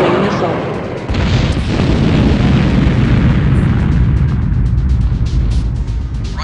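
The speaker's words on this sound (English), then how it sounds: "Incoming missile." A loud missile explosion from the Command & Conquer game, a GDI superweapon test, hits as a heavy booming blast and rolls on into a dense, sustained roar that fills the whole stretch.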